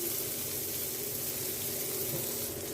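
Onion, green chili and broccoli sauté in a pan, giving a steady, even sizzle that runs unbroken and fairly quiet throughout, with no voices.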